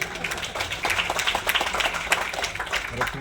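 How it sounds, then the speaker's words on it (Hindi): An audience at an all-India artists' association award function breaks into dense, steady applause, a continuous wash of many hands clapping at close range, with some voices mixed in. "ये छोटी सी लव स्टोरी के लिए एक बार जोरदार तालियां"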